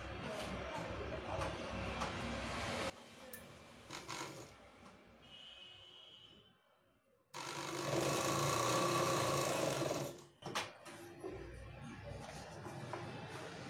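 A sewing machine stitching a single layer of cloth runs in steady mechanical bursts, whirring loudly for a few seconds, pausing, then starting again, with a voice speaking between runs.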